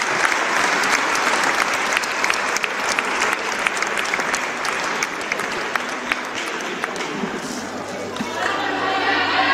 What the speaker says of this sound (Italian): Applausi per l'uscita di Populini, un grande in bocca al lupo.